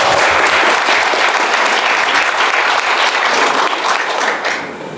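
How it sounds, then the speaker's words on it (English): Loud, dense audience applause fills a hall during a business opportunity presentation, holding steady throughout and easing off slightly at the very end. "give yourself a round of applause."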